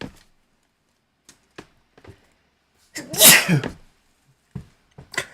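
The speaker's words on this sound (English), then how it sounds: "I might be sneezing" A single person's sneeze bursts out loud and close amid quiet handling noises and soft taps, with a brief sniff or rustle following.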